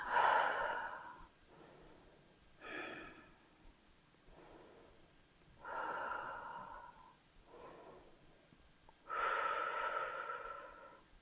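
Slow yoga breathing, with long audible inhales and exhales repeating in a calm, even rhythm about every three seconds, close and soft, with no talking.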